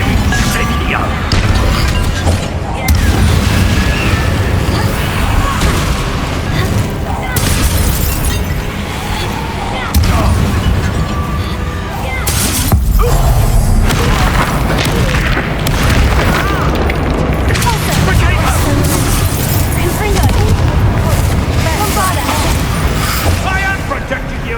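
Incendio fire spells cast during combat in Hogwarts Legacy, loud crackling bursts and booming impacts layered in a dense, continuous battle din, with voices shouting over the action.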